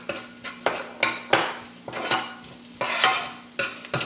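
Diced garlic stirred in a pan of sesame seed oil over medium heat, with repeated scraping strokes of a utensil against the pan over a low steady sizzle, close and alone.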